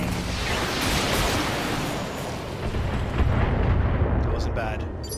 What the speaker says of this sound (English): Firing everything.